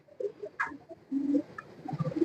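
A pigeon kept by a fancier coos softly and close by in short, low, throaty phrases, with a few faint chirps from other birds in the background.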